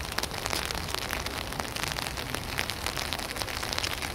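Steady rain patters densely on surfaces outdoors near a doorway and walls, a constant close hiss with scattered drop impacts and no voices.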